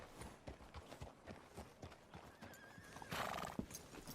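Horse in Red Dead Redemption 2 clip-clopping steadily on hooves, then letting out a whinny near the end, fairly quiet overall.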